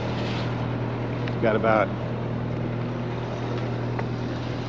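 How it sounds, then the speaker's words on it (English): A sailboat's engine idles while warming up on the ocean, giving a steady, even low drone that runs the whole time, while someone speaks briefly over it. "I'm gonna turn on the power, fire up the battery, and fire up the engine"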